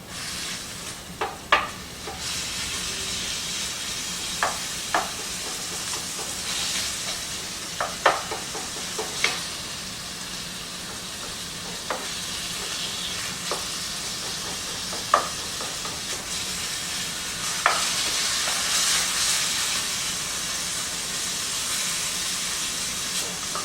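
Beef sizzles in a hot Viking skillet with a steady hiss, broken by occasional sharp scrapes and clicks of stirring, all close and fairly quiet.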